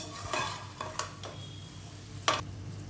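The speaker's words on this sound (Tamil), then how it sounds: "போட்டு இதை நல்லா மிக்ஸ் பண்ணி மூடி வச்சிடலாங்க" A bitter gourd side dish gets stirred in a pan with a few soft scraping strokes of a utensil, over a low, steady sizzle, with no talking.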